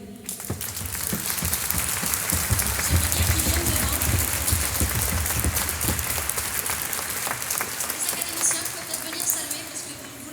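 An audience in Chartres cathedral gives sustained applause after a Vivaldi Gloria concert. The dense, steady clapping fills the whole clip at an even level, with faint voices underneath.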